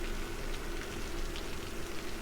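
Rain weather in Cities: Skylines gives a continuous, dense hiss of falling drops, steady and fairly loud for the whole stretch, with no voices.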